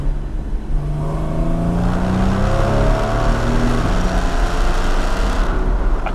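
A Porsche Cayman 981 driven hard, its engine note loud and close from inside, climbing in pitch through the revs with a gear change midway and steady road roar underneath.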